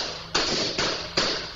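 Gunshots from a shooting incident, played in news footage on a Thai news program. Three sharp, loud reports come at an even pace, each with a short ringing decay.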